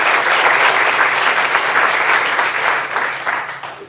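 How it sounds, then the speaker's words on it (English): An audience at a breakfast event applauds the organizers, a dense, steady round of clapping that begins to thin toward the end. "One more round of applause for the organizers who put this entire morning together."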